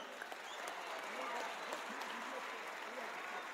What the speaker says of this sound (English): One huge round of applause for Imad.